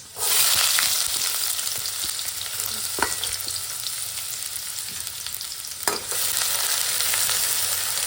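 Garlic and onion fry in a pan with a loud, steady hiss that runs throughout, broken by a couple of sharp clicks or taps from a stirring utensil.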